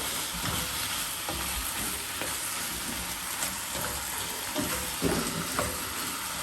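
Chicken for a Thai chicken curry frying in a hot pan, a dense, even sizzle with occasional stirring scrapes and pops, close and steady throughout.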